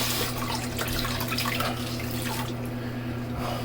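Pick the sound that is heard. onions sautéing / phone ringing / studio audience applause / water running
water running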